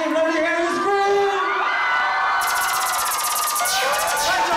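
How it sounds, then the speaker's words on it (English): Concert crowd at a chutney music show screaming and cheering loudly, a sustained wall of shouts and whoops with high-pitched yells rising toward the end, filling the whole moment without pause. "let me hear you scream!"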